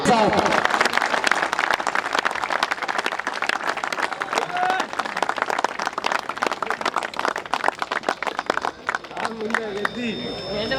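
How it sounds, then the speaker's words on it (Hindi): A crowd at a birthday celebration at a farm house claps loudly and continuously, with dense, rapid applause filling the whole stretch and a murmur of voices mixed in. "जिस मोहब्बत से और जोश से आपने तालियां बजाई हैं"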